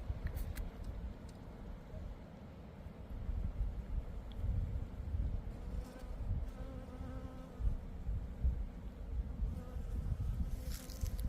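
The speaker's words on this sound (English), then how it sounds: "Everywhere you look, there are just bees flying around." Honeybees buzz steadily as they fly around collecting pollen on a sunny but windy spring day in a garden, a soft continuous drone mixed with wind rumble.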